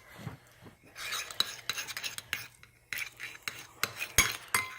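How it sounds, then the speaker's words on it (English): A mixing tool stirs a slime mixture made without glue in a bowl, giving quiet, irregular scraping and clinking strokes with soft pauses between them. "get your mixing tool and start to mix in"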